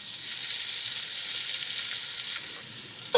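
Onion sizzling in hot oil with a pinch of salt, a steady bright frying hiss that holds close and even throughout, with a small clatter right at the end.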